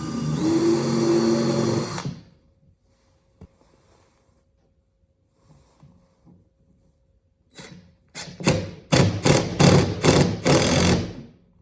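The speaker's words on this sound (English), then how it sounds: "and I'll countersink the head." A power drill bit whines as it countersinks a pre-drilled screw hole in oak for a scrap-wood pocket hole jig, first a steady two-second run, then quiet handling, followed by several short choppy bursts of drilling.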